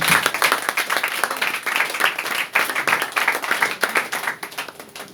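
Church congregation applauding: loud, dense clapping from many hands, steady and rhythmic, continuing throughout.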